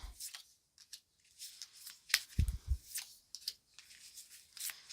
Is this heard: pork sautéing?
no